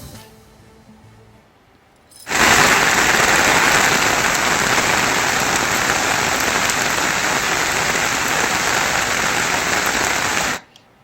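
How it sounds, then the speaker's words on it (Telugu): Heavy monsoon rain from a Bay of Bengal low-pressure system pours down across Srikakulam district, a loud, dense, steady roar that starts abruptly after a quiet lead-in and cuts off near the end. "శ్రీకాకుళం జిల్లా వ్యాప్తంగా భారీ వర్షాలు కురుస్తున్నాయి"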